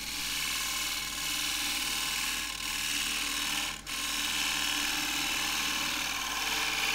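Spindle gouge cutting a wooden hollow form on a lathe, a steady loud hiss and whirr of the spinning wood and blade, continuous and close, with a momentary dip near the middle.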